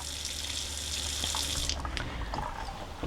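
Water pours steadily from an RV kitchen faucet in a 2018 Forest River Sunseeker 24-foot compact gas model once the pump has built pressure, a close, continuous hissing splash into the sink.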